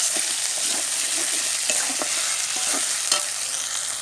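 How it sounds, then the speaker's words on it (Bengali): Snakehead fish with mango is stirred in spice paste in a frying pan: a loud, continuous sizzle fills the whole stretch, with soft scraping strokes of the spoon moving through it. "দিয়ে দিয়েছি আমি মাছগুলো মশলার সঙ্গে ভালো করে একটু কষিয়ে নেব।"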